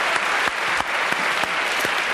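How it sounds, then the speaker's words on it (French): A TV studio audience claps for author Alexandra Lapierre on a French talk show, dense, sustained applause with a few sharper individual claps standing out, loud and close. "Applaudissements pour Alexandra Lapierre."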